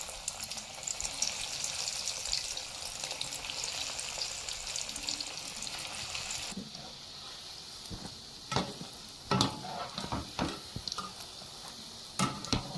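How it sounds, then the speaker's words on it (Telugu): Egg lollipops dipped in egg and breadcrumbs deep frying in hot oil, a dense steady bubbling sizzle, followed by quieter frying broken by scattered knocks and clinks of a utensil against the pan. "బాగా హీట్ అయిన ఆయిల్లోని ఎగ్లో ఇంకా బ్రెడ్ క్రమ్స్లో డిప్ చేసుకున్న వీటిని ఆయిల్లో వేసి ఫ్రై చేసుకోండి"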